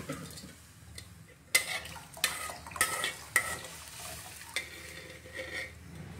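Spoon stirring buttermilk sambar with fried garlic and onion in a pan, giving a gentle bubbling sizzle broken by sharp scrapes and clinks against the metal every second or so.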